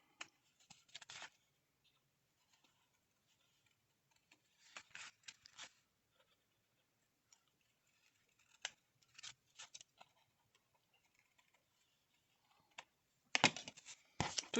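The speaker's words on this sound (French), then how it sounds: "Couper mes coins ronds." Scissors cutting rounded corners on paper for handmade envelopes: quiet, close snips in short separated bursts with long silent gaps between them and no talking.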